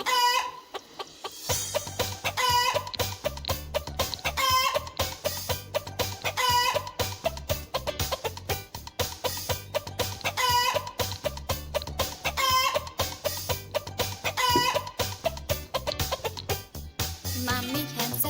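Hens cluck and a rooster crows repeatedly in a steady, rhythmic pattern that fills the clip, close and fairly loud, for a lesson on poultry keeping, with no speech.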